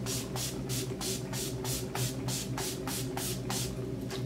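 Urban Decay All Nighter Setting Spray misted onto a face in a run of about ten quick, evenly spaced hissing bursts over a steady low background hum.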